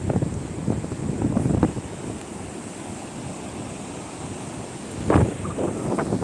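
Sea waves roll in toward a beach as the tide rises, with a rushing surge at the start and another near the end, separated by a steadier wash and wind buffeting the microphone.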